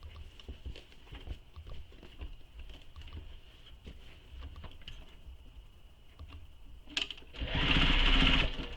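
A sewing machine stitches a dart on a crossbody bag in short, rapid bursts of needle chatter, pausing between runs, then speeding into a louder continuous whir at the end.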